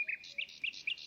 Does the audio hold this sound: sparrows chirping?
yes